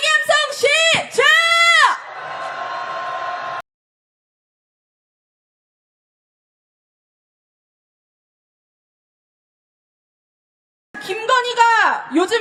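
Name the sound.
crowd shouting impeachment chants at rally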